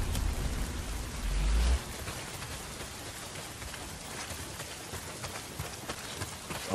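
Heavy rain falls steadily in the video game Days Gone, a dense, even hiss of drops on surfaces with a low rumble in the first couple of seconds and no voices.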